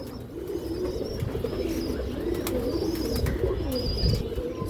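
Pigeons coo over and over in low, soft, rolling calls that overlap, close by, with faint chirps and background noise mixed in.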